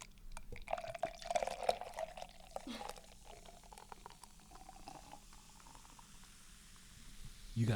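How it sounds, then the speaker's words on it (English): A drink is poured into a glass, a soft liquid gurgle and trickle running for several seconds at moderate level, with faint voices in the background. "And we're going to pour."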